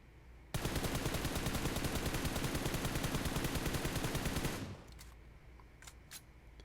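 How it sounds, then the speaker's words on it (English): Rapid automatic gunfire in the mobile game PUBG Mobile, one sustained burst of about four seconds, loud and close, then it stops and a few faint clicks follow. "I missed quite a few shots on that one"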